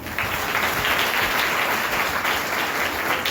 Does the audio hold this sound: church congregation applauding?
yes